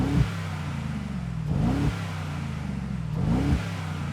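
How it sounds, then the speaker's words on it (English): The new Mercedes-AMG G63's engine is revved three times while stationary, each blip a rising growl followed by a steady idle rumble, close and alone with no talk. "Give it some revs."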